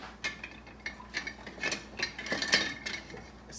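A spoon tosses spaghetti squash in a pot, giving a run of light scraping clinks and taps in an irregular rhythm, close and fairly quiet with no voices.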